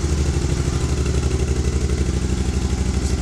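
A Can-Am Spyder RSS three-wheel motorcycle with about 420 miles and its park brake set, its engine running in a steady, close, even idle rumble with no one talking.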